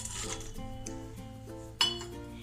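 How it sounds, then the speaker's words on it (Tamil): Light clinks and rattles of cashew nuts dropping into a metal mixer jar, with one sharper clatter near the end; quiet and close. "முந்திரி பருப்பை அரைக்கணும். ஸோ அதனால் நான் மிக்ஸி ஜாரில் ட்ரான்ஸ்ஃபர் பண்ணிக்கிறேன்"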